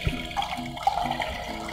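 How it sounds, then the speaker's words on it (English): Wild mint water is poured a little at a time while making a fresh herbal tonic, giving a short, gentle trickle and splash that runs close and moderately loud for under two seconds, with no voices. "I'm going to pour a little bit of the wild mint."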